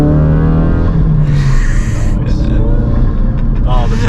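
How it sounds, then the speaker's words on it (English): A 2018 Ford Focus RS MK3 runs with a deep engine rumble and occasional higher turbo whooshes, loud and close, while someone talks over it. "This car does make some nice noises"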